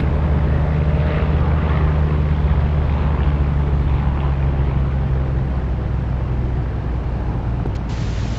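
Warbird propeller aircraft engine in the DCS combat flight game droning steadily and loud, with a constant low hum that eases slightly as the throttle is cut near the end.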